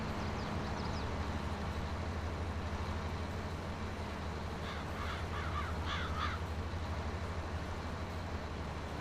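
Crows caw repeatedly in a Farming Simulator 22 field during harvest, short harsh calls in bursts over a steady low engine drone from farm machinery.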